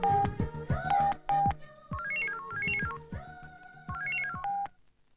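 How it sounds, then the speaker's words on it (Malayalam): A telephone being dialed in a Malayalam comedy film scene, with a rapid run of clear rising and falling keypad tones in repeated bursts, close and loud, mixed with some clicks and background sounds. "നീ ആ ഫോൺ എടുത്ത് അവളെ ഒന്ന് വിളിച്ചേ"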